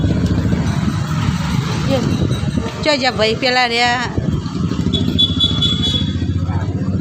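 A motorbike rumbles close by through a domestic setting, its engine drone steady for several seconds while a man calls out over it and other voices talk nearby.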